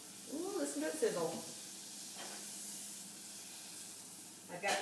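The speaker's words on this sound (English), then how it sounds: "Ooh, listen to it sizzle." Half a teaspoon of butter sizzles in a heated pan, a soft steady hiss just after a close scraping sound, with a brief voice over it at the start.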